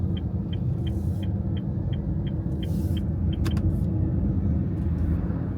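Car traffic crawling in a jam on a road, a steady low engine rumble from inside a vehicle with a rhythmic ticking indicator and a few faint clicks over the drone, no talk.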